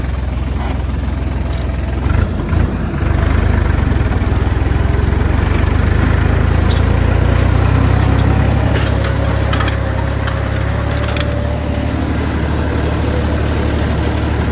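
A Hattat tractor pulling a disc harrow through a field makes a loud, steady diesel engine drone close by, with a brief knock early on and the heavy rumble holding constant for the whole stretch.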